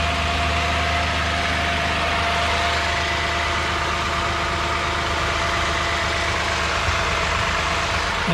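A 2015 Lexus RX 350 idling during an oil change: a steady, even engine hum held close and constant with no revving and no voices.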